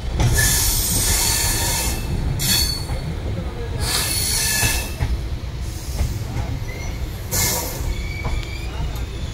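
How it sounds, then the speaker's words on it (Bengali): The Kanchan Kanya Express pulling into Bagdogra station, loud close rumble of rolling carriages broken by several sharp, piercing bursts of wheel squeal, with faint voices in the background. "এই মুহূর্তে ট্রেনটা ঢুকলো বাগডোগরা স্টেশনে।"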